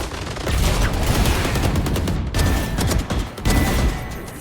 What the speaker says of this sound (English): Oh, what a couple shots from Doer to find 2